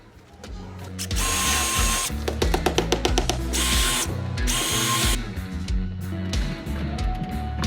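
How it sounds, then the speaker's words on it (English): A power drill whirs loudly up close in several bursts, revving and slowing as it bores a pilot hole in a garage door, with brief stuttering ratchet-like clicks. "Drill yourself a pilot hole."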